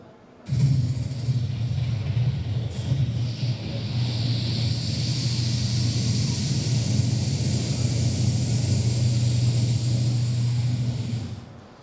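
A voice imitates a helicopter with a steady, continuous low rumble and breathy hiss, sustained for several seconds before cutting off.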